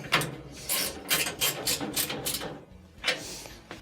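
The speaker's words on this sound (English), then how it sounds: "we will use a ratchet to tighten it up." A ratchet tightens a screw on a dryer's hi-limit thermistor, giving quick bursts of sharp clicking with brief pauses between them, close and distinct with no talking.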